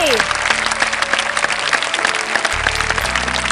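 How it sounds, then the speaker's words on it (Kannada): Enthusiastic audience clapping at a staged Kannada story performance, loud and continuous across the whole stretch, with a low tonal hum and a faint voice underneath. "ಮತ್ತೊಮ್ಮೆ ಚಪ್ಪಾಳೆ ಜೋರಾಗಿ ಬರ್ಲಿ"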